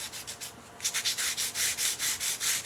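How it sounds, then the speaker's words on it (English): Fine sandpaper rubs over raised embossing paste on a 3-D memorial sign, a few quiet strokes followed by rhythmic, louder back-and-forth scratchy sanding passes, close and alone. "you can do just a little bit of sanding there and it knocks it down just a little bit"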